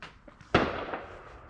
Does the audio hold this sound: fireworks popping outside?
yes